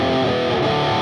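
Heavily distorted electric guitar plays the chorus riff of a song slowly, with dense sustained power-chord tones ringing loud and alone, no voice over it.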